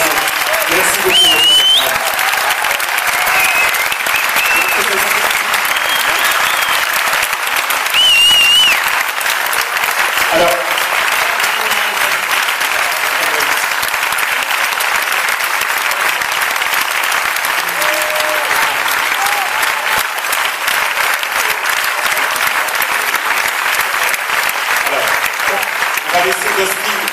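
Loud, sustained applause from an audience fills the whole stretch, steady and enthusiastic with no pause.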